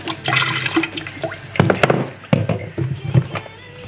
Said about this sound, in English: then pour that into